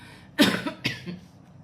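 Two short, close coughs in quick succession, the first sharper and louder than the second.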